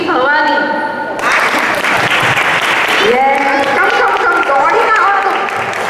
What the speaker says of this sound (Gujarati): તાળી પડો બધા.